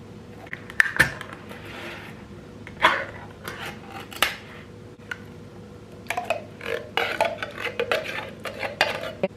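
Cherry and blueberry fruit filling stirred in a baking pan for a dump cake, with soft wet scraping and occasional clinks of a utensil against the pan, sporadic and close.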